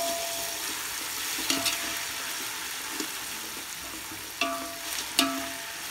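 Onions frying in a pot for one-pot chicken biryani, a steady sizzle with occasional scraping stirs of a spoon and a few louder clinks, heard up close with no talking.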